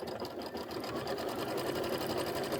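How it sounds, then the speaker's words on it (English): A sewing machine stitches along the other side of a fabric seam with a steady, close, continuous mechanical whir and rapid needle chatter, no voices. "I'm going to go ahead and stitch the other side."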